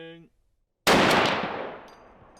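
A lone voice speaks briefly, then after a short silence a single loud gunshot of an incendiary round at a hardened steel anvil cracks out, its echo trailing away over a second or so.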